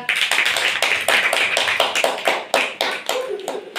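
Children in a classroom clap together for a classmate, a loud, close burst of quick uneven claps that keeps going.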